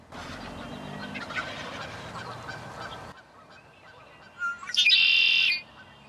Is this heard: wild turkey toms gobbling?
yes